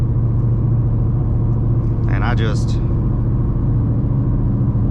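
Steady low engine rumble from a 2014 Ford Mustang GT with manual transmission, heard from inside during a drive, continuous throughout with a brief spoken phrase over it midway.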